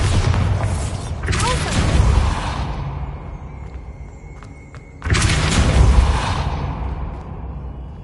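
Bombarda blasting spell explosions in Hogwarts Legacy, with two loud, close booming blasts a few seconds apart, each rumbling and fading away, plus a faint ringing tone between them.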